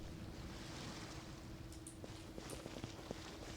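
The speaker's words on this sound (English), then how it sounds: "The sound of the waves is very calming." Soft video game ocean waves rolling steadily in the background, a gentle continuous wash with a few faint splashes and clicks near the end, no speech.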